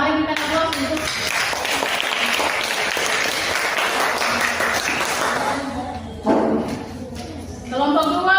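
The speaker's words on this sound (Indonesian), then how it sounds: "Mari kita aplaus untuk" Students in a classroom applaud group 2 with sustained, close clapping that lasts several seconds, then tapers off as voices rise briefly near the end.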